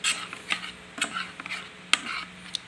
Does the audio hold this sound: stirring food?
yes